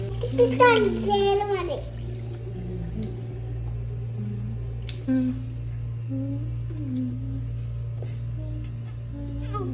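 Water runs steadily from a tap with a constant hiss and hum while a voice chatters briefly at the start and again later.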